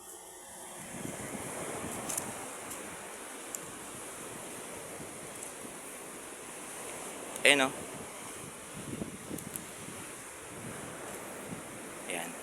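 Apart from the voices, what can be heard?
sea waves on the shore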